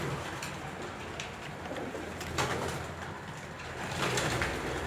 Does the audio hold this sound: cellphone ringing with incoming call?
no